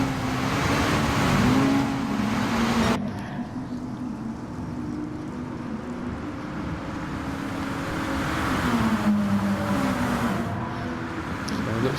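Sim race cars roar past in a steady, loud stream of engine noise with gear changes and pitch sweeps as they slow for corners, while a commentator talks over the racing.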